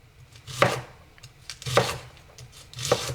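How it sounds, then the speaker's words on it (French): Knife chopping fresh spring onions on a board, three distinct bursts of chopping strokes close up, each a short cluster of crisp cuts with pauses between. "Et ensuite c'est parti pour hacher."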